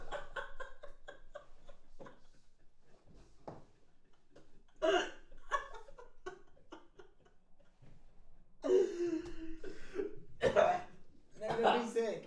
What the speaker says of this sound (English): I'm just coughing up the water.